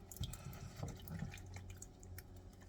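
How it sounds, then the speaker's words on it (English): A whole 24-ounce jar of sauce is emptied into a cooking pot, giving close, irregular wet glugs and plops that spread over a few seconds with no talking. "I'm gonna get this whole jar of sauce in."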